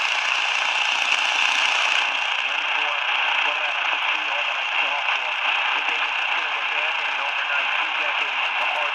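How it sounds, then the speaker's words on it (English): AM station WKZO from Kalamazoo, Michigan, is received about 140 miles away in daytime on an Elpa ER-C57WR radio with a passive loop antenna, giving a thin, hissy voice buried in steady static and noise. "We're picking up a hint of WKZO, Kalamazoo, Michigan."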